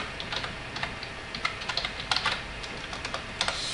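Typing on a computer keyboard while writing a PowerShell command on Red Hat Linux, a close, irregular burst of light key clicks and taps heard alone with no speech.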